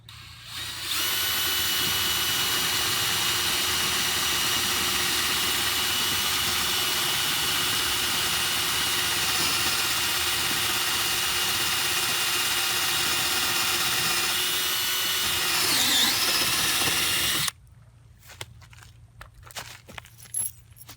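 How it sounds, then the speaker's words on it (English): Power drill boring bolt holes into a floating dock frame, one continuous high whine running steadily for about sixteen seconds close up, then cutting off abruptly to quiet background noise. "Let's drill the holes."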